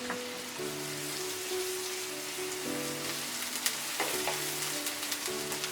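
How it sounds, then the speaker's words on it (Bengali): Ginger and garlic paste fries lightly in hot oil, a soft, continuous sizzle that crackles evenly throughout, with a faint tonal hum in the background. "একটু হালকা ভেজে নেব এতে আমি আদা এবং রসুন পেস্ট এক টেবিল চামচের মতো হবে একটু দিয়ে দিলাম"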